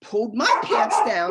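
A collie dog barks close by in a rapid run of sharp, high barks that overlap a person talking throughout.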